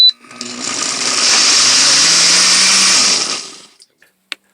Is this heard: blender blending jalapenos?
yes